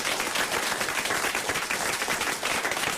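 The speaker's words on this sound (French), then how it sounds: "vous pouvez quand même les applaudir" Dense, continuous applause from a studio audience at a French radio comedy show, loud and sustained with rapid overlapping claps and no voices.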